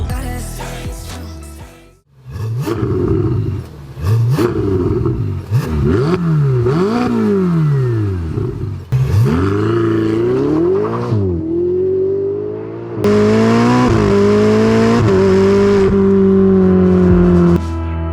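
A repaired Ferrari engine revs loudly and close, rising and falling in repeated throttle blips before settling into a sustained high-pitched roar, with some mechanical clatter.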